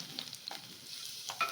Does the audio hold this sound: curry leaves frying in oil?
yes